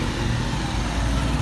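Dense road traffic in Banjul, The Gambia: a loud, close, continuous engine rumble from cars and trucks, thick low-frequency drone with no pauses and no speech.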